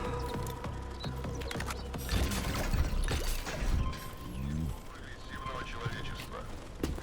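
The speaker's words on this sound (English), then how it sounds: "I can still hear that fucking whirring" A flying drone whirs in the video game Atomic Heart, a persistent mechanical hum and rattle mixed with clanking game noises and occasional heavier thuds, fairly loud and continuous.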